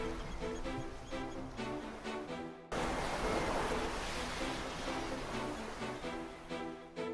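Restless ocean waves and howling wind surround a lobster fishing vessel in the Gulf of Maine at dawn. A loud, continuous broadband wash surges after an abrupt cut, with steady musical tones running underneath throughout.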